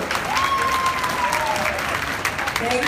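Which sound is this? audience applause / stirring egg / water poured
audience applause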